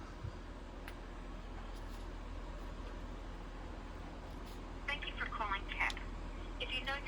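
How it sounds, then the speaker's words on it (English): A call being placed on speakerphone brings short electronic tones and beeps near the end, over a steady low hum and faint background noise. "I'm gonna now put the call through, and I'm gonna put it on speakerphone"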